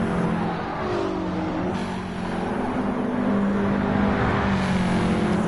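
Race car engines roar in a sim racing game of the British Touring Car Championship, a BMW among them, a loud continuous engine drone with shifting pitch as cars run close together.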